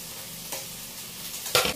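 Green beans and carrots sizzling as they are stir-fried in a pan, a steady frying hiss with a couple of louder stirring scrapes.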